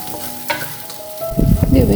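Rock sugar, cinnamon and star anise stir-fried in hot oil with scallion, ginger and garlic, a crackling sizzle with a spatula knock, then a louder burst of frying and stirring toward the end.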